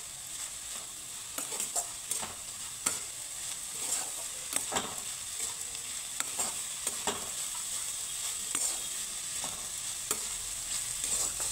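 Coconut and jaggery filling for modak stirred in a pan, with repeated scraping strokes of a spoon and a steady low sizzle running throughout, no voices.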